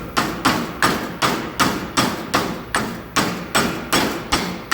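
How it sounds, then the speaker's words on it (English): Steady hammer strikes on metal, about twelve evenly spaced taps, close and sharp, with no talking, as a hammer taps a bushing's outer sleeve into an early-2000s Honda front control arm. "I'm just going to gently tap the outer sleeve in, starting with the hammer."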